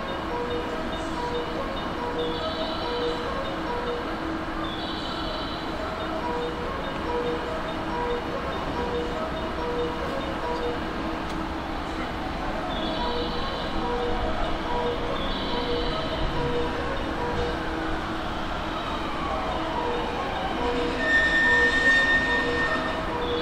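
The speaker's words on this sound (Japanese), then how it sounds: "3番乗り場に電車が参ります。" In Japan, the Salon Car Naniwa train, hauled by two DD51 diesel locomotives, rumbles steadily into platform 3 of a station, wheels grinding and squealing in places, with brief chime-like tones above the continuous noise.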